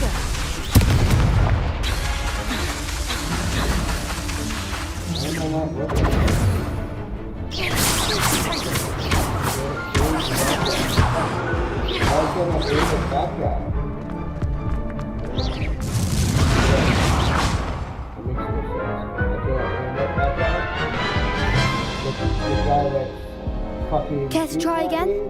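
Confringo explosive spell blasts in the Hogwarts Legacy video game boom out repeatedly and loudly amid dense combat noise and crashes, with a voice talking in between.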